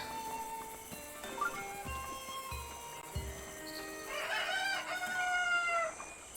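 Clucking chicken sounds from Zelda: Breath of the Wild, several scattered bursts of squawking over a busy game background, moderately loud, with no talk.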